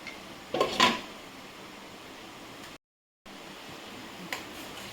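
A lid is set on a cooking pot of vegetarian stuffed papad curry with a quick, close metallic clatter. A quiet background hum continues before and after.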